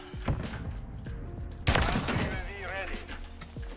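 A sniper rifle shot in Call of Duty Modern Warfare 3 cracks loud and sudden partway through, amid game gunfire and ambient effects, with a ringing tail after it.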